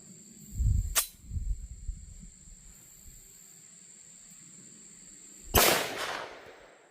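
Sharp, loud gunshots from an STI Perfect 10 pistol in 10mm with a 6-inch barrel, two clear cracks several seconds apart with a softer report between them, then quiet background.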